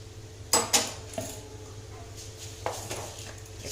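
A metal lid clanks down onto a cooking pot of tomato curry with two quick close clinks, and a lighter knock follows later. Steady kitchen hum sits underneath.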